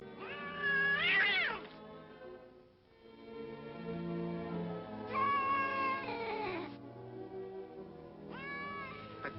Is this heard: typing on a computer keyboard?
no